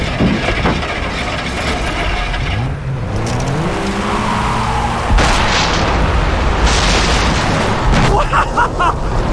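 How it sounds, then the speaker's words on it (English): An explosion in the video game Far Cry 3 during a vehicle escape, a loud booming burst over constant engine roar and revving, with shouting voices and gunfire around it. "Did you see that explosion? What? Something exploded!"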